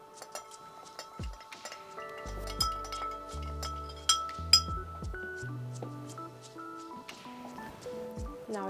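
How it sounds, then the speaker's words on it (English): Ice clinking against glass as a martini with Noilly Prat and a large ice cube is stirred, giving light irregular taps and rattles, mostly quiet with a few sharper knocks. "And now we stir."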